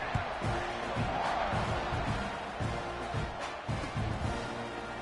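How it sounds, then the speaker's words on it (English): Stadium crowd in a football video game keeps up a steady, dense roar with rhythmic low chanting pulses, broad and continuous across the scene with no clear speech on top. "this crowd is buzzing after that last score"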